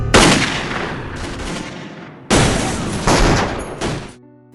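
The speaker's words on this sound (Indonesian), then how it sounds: "Dalam keadaan gelap total, suara tembakan terdengar saling bersahutan." Two loud bursts of rapid gunfire crash out back to back in total darkness in a film scene, each decaying into a rumble, with a short lull between them.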